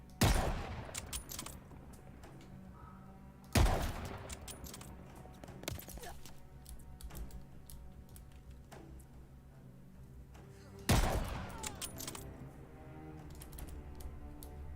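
Sharp gunshots from a favorite gun in Call of Duty. The bursts are loud and spaced several seconds apart, with quieter rattling shots and clicks between them over a low background hum.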